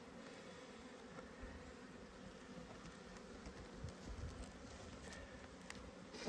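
A crowded honeybee hive opened for inspection hums with a constant, low-level buzz, the droning swelling slightly near the end, with no talk over it.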